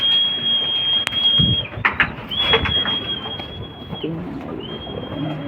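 Pigeons coo in low soft bursts, up close, while a constant high electronic tone whines over everything and a few sharp clicks and knocks break in.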